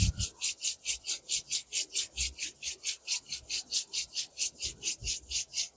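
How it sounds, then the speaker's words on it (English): Palms rubbing briskly together in a steady back-and-forth rhythm, about twenty quick dry rasping strokes, close and clear with no talk. "Now let's rub our hands together to bring the energies to the palm."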